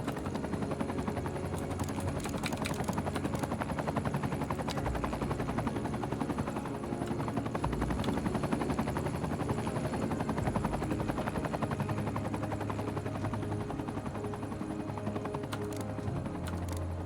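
Helicopters hovering in the city-building game Cities: Skylines II, a steady continuous rotor drone with rapid chopping pulses, loud and constant throughout with no talking.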